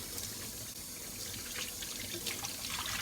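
Water runs steadily from a tap while the pulp is rinsed out of a Kuvings Whole Slow Juicer, a soft, even hiss of flowing water lasting throughout with no voices.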